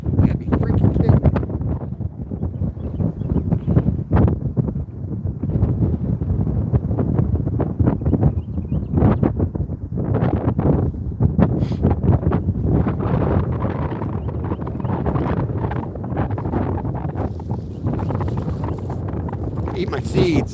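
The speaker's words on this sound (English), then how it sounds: "Stupid wind." Gusty wind buffets the microphone outdoors beside a river, a steady low roar with louder bursts that continues throughout the clip while someone talks over it.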